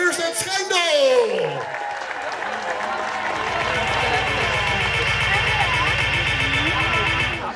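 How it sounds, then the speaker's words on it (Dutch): Spectators at a BMX race event applaud the organising cycling club in Schijndel, broad sustained clapping from a crowd outdoors, with an announcer's amplified voice at the start and a steady mechanical hum underneath. "ik wil graag van u allemaal een davend applaus voor de organiserende club Fietscrossvereniging in Uurstedt Schijndel"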